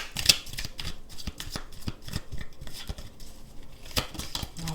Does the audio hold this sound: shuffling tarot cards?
yes